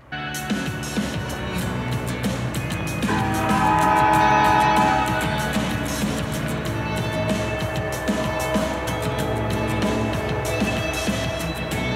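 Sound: Alaska Railroad train with horn

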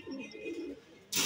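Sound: Madrasi lalpotiya pigeon cooing

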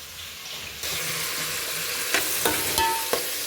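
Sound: onions and vegetables frying in tempering

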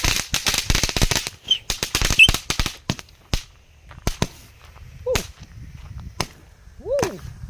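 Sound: fireworks being set off and exploding

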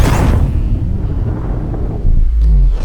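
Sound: remote bomb explosion in Call of Duty Advanced Warfare video game

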